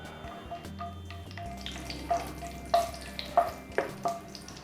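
Whole spices, two black cardamoms, cinnamon and cloves, fry in hot refined oil for chickpea chana masala curry. A soft, close sizzle runs under several sharp clinks and taps of a spoon against the pan.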